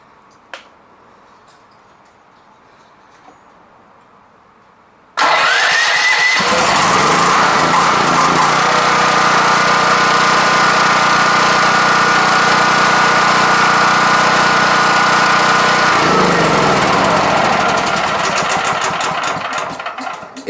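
A Champion dual fuel generator running on propane at half choke starts abruptly after a quiet stretch with a faint click, then runs loud and close with a steady engine drone whose tone settles as it warms up.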